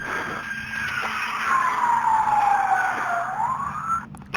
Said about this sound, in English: ambulance or something,